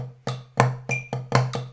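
A drum sticking exercise played in triplets, with seven crisp strokes in a quick, lilting three-note grouping and a ringing tonal body on each hit. Near and distinct, with no voice over it.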